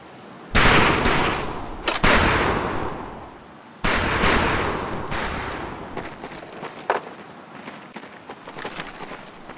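Rifle fire on a military training range in Medal of Honor Pacific Assault: three loud, close shots each ringing out with a long echoing decay, then a string of lighter, sharp cracks and clicks trailing off.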